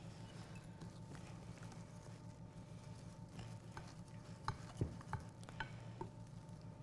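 A wooden spoon stirring cookie dough in a bowl, giving a steady soft scraping and thudding texture with a few louder knocks near the end, fairly close.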